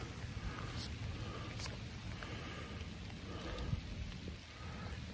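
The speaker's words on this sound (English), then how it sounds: "getting pummeled by the rain" Rain pummeling a new Outdoor Vitals Tushar rain jacket: a faint, dense, continuous patter of drops with occasional sharper taps, steady throughout and fairly quiet.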